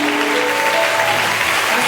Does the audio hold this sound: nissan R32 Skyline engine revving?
no